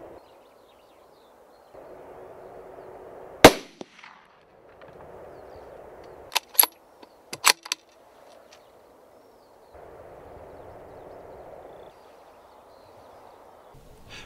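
A rifle fired at a roebuck gives one sharp, loud crack in quiet countryside, followed a few seconds later by several fainter sharp clicks and knocks against a soft background hiss.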